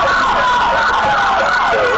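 Wailing ambulance siren during a police chase of a stolen ambulance in Michigan, a loud, close, continuous rising and falling tone with traffic noise underneath.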